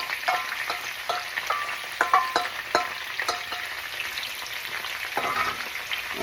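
Ackee and saltfish with vegetables frying in a pan, giving a steady close sizzle broken by repeated scrapes and clacks of a utensil stirring through the food.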